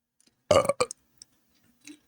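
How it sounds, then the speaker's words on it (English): A person lets out a single short, close burp, followed by a couple of faint clicks and a soft trailing sound in an otherwise quiet room. "Wait, I'm gonna burp."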